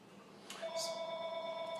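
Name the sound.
telephone ringing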